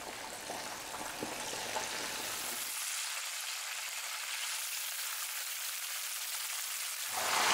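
Filipino fried chicken pieces cook in a pan of hot oil with a dense, steady sizzle. The crackling hiss holds constant and close, swelling slightly near the end, with no voices.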